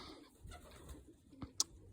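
Racing pigeons at a loft give soft, intermittent coos, faint and close, with a few small rustles and one brief sharp click.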